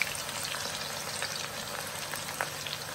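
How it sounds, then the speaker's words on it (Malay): Steady, dense sizzling of eggplant frying in hot oil, a constant crackle with occasional sharper pops, close and fairly loud throughout. "Kita nak goreng terung pula."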